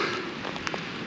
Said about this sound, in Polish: Pogoda nie rozpieszcza, pada coraz mocniej.